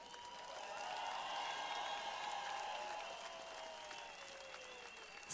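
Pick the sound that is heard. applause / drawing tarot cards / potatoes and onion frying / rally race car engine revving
applause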